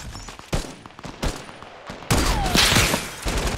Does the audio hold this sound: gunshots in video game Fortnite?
yes